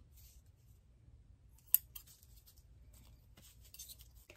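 Scissors cutting apart folded Dollar Tree plastic tablecloths: a few crisp snips and crinkles, close and quiet, over a faint low hum, with no talking.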